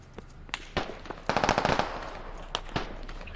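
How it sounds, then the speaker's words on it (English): Gunfire in the video game Squad, a scatter of sharp cracks followed by a quick rattling burst of automatic fire mid-clip and a few more single shots, moderately distant. "I hear shots to the Officer, southeast"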